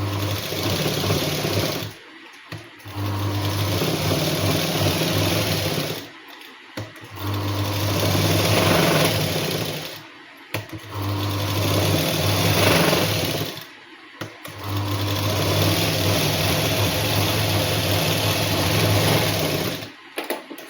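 A sewing machine stitches a size 39 katori blouse piece in loud, close bursts of rapid whirring, about five runs separated by brief pauses.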